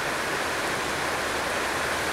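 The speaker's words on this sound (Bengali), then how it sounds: "এখানে বিশাল বৃষ্টি হচ্ছে" Heavy rain pours down at a railway station on the Northeast Frontier Railway, a dense, even hiss that fills the whole moment without a break.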